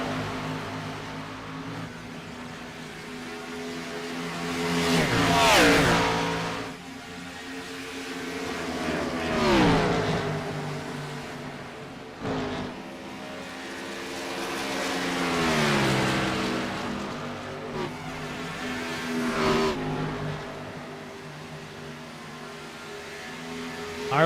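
Stock race cars, a number 9 Camaro among them, in a Gen 6 Cup Series race at Texas roar past in repeated waves, engines rising and falling in pitch as each pack sweeps by, loud and continuous throughout.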